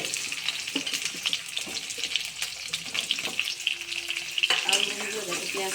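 Potatoes and chopped onion sizzle in hot oil in a pan while cooking Bengali-style rui fish curry, a steady crackling fry with occasional stirring scrapes and clinks close by.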